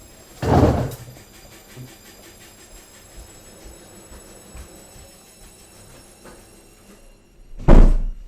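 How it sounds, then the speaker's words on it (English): Two loud thuds of a laundry room door, one near the start and one near the end, separated by a quiet stretch with faint rattling. "Hang on, I'll just close the door."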